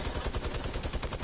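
A light machine gun fires in Fortnite, a rapid unbroken burst of shots that runs loud and dense through the whole moment, with no voices over it.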